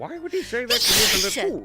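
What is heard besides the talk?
sneeze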